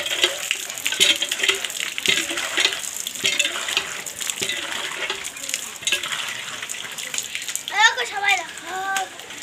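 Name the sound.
water splashing while a child is bathed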